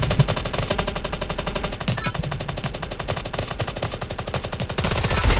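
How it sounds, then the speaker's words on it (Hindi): Rapid automatic gunfire in the Raider Six video game, dense bursts of machine-gun shots rattling continuously and loudly throughout with no talk. "और तभी मेरे को गन साउंड आती है वापस से"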